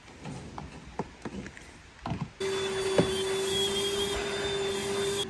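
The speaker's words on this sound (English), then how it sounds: "Here comes Daddy with the vacuum." A vacuum cleaner cleaning a car starts up after a couple of seconds of soft knocks and rustling, then runs as a loud, steady, close whine with a sustained hum to the end.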